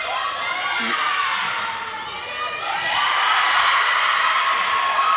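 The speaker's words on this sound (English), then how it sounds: "Crowd really starting to get going from that." Crowd at a university netball match between Cardiff Met and Bristol cheering and shouting from the stands, a sustained roar that dips briefly then swells louder, with a commentator talking over it.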